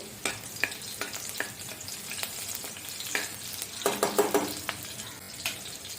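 Green chilies fry in oil with a continuous crackling sizzle, punctuated by sharp spatters and pops, busiest toward the end.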